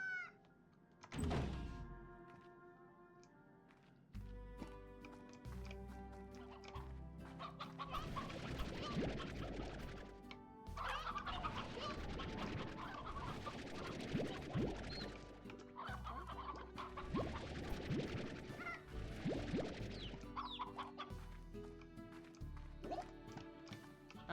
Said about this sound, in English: My chickens. Go away. Bad chicken.